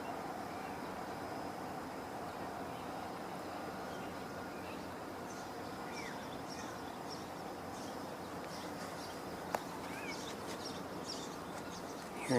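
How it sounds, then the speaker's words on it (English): House sparrows chirp outdoors near Rice Hall: faint, scattered high calls at a middle distance, repeating irregularly through the second half over a steady wash of wind-like or traffic background noise. "Hearing some house sparrows behind me."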